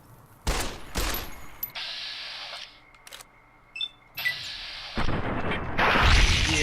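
Fallout New Vegas VATS gunfire ending in a headshot, with several sharp, loud shots separated by pauses, plus the game's slow-motion targeting effects and interface tones, with no talking.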